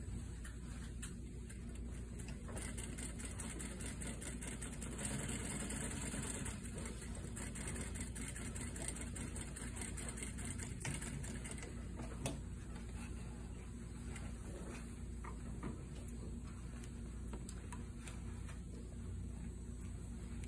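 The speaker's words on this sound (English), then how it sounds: "This time I'm stitching on the welt." A sewing machine stitches the welt of a fabric pocket with a steady, fast mechanical ticking that runs evenly and fairly quietly throughout.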